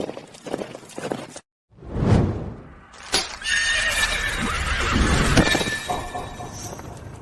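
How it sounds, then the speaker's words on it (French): A horse gives a loud, close neigh that rises and trails off, followed by a drawn-out whinny amid some clattering and rustling, with a brief silent gap early on. "On dirait que Chloé est tombée de son cheval"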